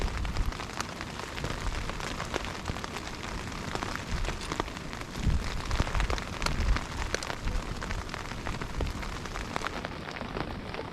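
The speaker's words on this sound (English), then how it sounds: "So the rain didn't really let off." Rain falls steadily on surfaces during a wet Lake District motorcycle trip, with a dense patter of close drops and occasional louder splats throughout, with no voices.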